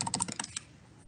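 Quick light keystrokes on a laptop keyboard, about eight clicks in rapid succession, close and crisp, then a brief quiet tail.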